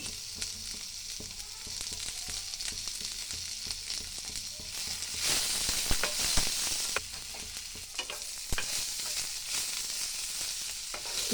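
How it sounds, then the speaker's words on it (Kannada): Coriander leaves sizzle and crackle in hot oil in a pan, a steady frying hiss broken by scrapes and taps as they are stirred. "ಸ್ವಲ್ಪ ಕೊತ್ತಂಬರಿ ಸೊಪ್ಪು ಹಾಕ್ಕೊಂಡು ಫ್ರೈ ಮಾಡ್ಕೊತಾ ಇದ್ದೀನಿ"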